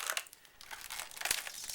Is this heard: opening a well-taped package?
yes